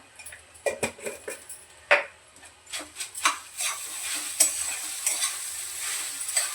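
A spoon stirs salted potatoes sautéing in a pan for sabudana khichdi, giving a series of close, irregular scraping and clinking strokes over a soft sizzle that grows steadier toward the end, with no talking.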